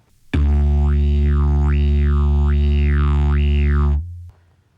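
A didgeridoo played correctly holds a deep, steady drone for nearly four seconds, with bright overtones sweeping up and down in four rhythmic waves before it stops abruptly.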